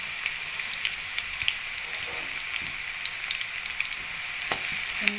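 Finely chopped thick onion and green chillies fry in oil in a home kitchen, a continuous bright sizzle with occasional stirring scrapes and no talk.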